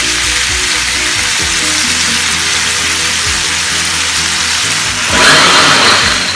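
Prawns frying in ghee in a pan for a Mangalorean ghee roast, a loud steady sizzle with a sharp burst of hissing near the end as they are stirred or turned, no talking.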